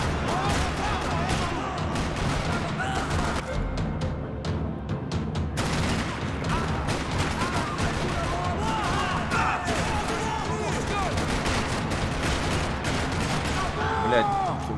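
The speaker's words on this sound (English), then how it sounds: "Another parking lot rattling with gunfire." Gunfire in the Max Payne video game, a dense rattling barrage of shots in a parking lot, continuous and loud throughout with crashes and booms mixed in.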